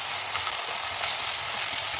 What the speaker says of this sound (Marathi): कांदा बटाटा मिरच्या सगळ्या परतल्या गेलेल्या आहेत